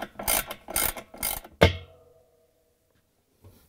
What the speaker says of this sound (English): I'm going to use this 10 millimeter socket wrench, and I'm going to remove that screw in the center.